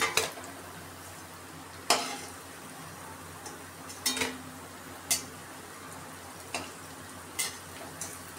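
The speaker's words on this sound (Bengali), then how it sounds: "বাকি যেগুলো আছে ওগুলোকেও এরকম করে ভেজে নেব" Potato tikki, crisp fried potato patties, frying in a pan: a steady low sizzle runs throughout, broken by sharp clicks and scrapes of a utensil against the pan at irregular intervals.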